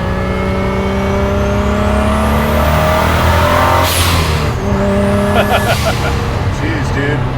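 A twin-turbo Ford GT40 restomod revs hard toward 5,000 RPM, its loud, close engine note climbing steadily in pitch, easing off, then rising again.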